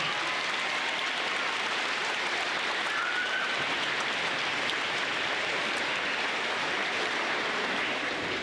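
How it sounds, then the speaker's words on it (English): An audience at a Grundy Elementary School awards ceremony claps in a steady, dense round of applause that holds at an even level from start to finish, with no one speaking over it. "Let's give them a big round of applause."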